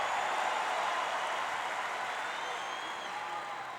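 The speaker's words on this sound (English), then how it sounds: "the crowd tries to rally Nadal's spirit." US Open tennis crowd applauding between points, a dense, steady wash of clapping that fades slightly toward the end.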